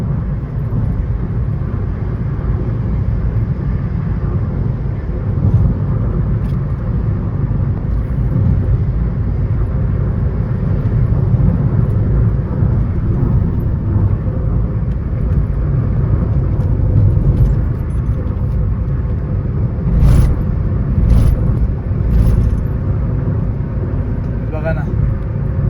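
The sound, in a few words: car driving fast on highway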